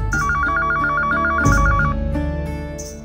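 A telephone rings loudly with a rapid trilling bell pattern, layered over background music with sharp accents.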